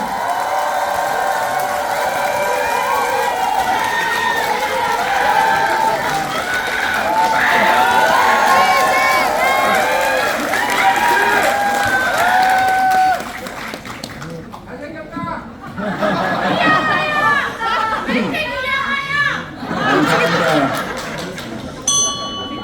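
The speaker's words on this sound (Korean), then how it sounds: "뜨거운 박수로 맞아주십시오" A large crowd at a Democratic Party rally in South Chungcheong cheers, shouts and chants loudly to welcome party leadership candidate Lee Jae-myung, a dense, continuous roar of many voices that surges and dips for over twenty seconds.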